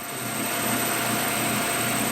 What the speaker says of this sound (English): I'm using the automatic feed here to clean up this side of the pulley blank.